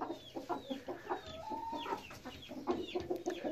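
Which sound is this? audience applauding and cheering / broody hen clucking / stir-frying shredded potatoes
broody hen clucking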